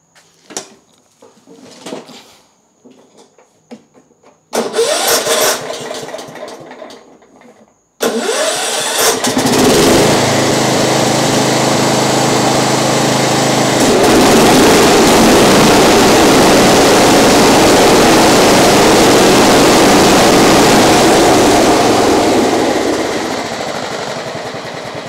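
A John Deere STX38 lawn mower with a slight engine miss, cranking and firing up after some clicks and rattles, then running loud and steady at close range before settling lower.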